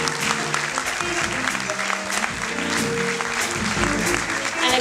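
Applause from a live concert audience for Annie Garcés, steady and dense throughout, with low tonal sounds and possible talk underneath.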